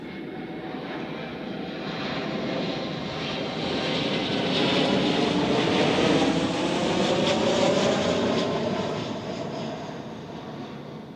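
An airplane at Zurich Airport roars past, its broad engine noise swelling over several seconds to a steady peak, then slowly easing off, with no voices.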